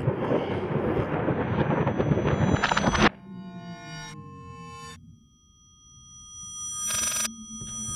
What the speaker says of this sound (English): you don't like the phone ringing or something?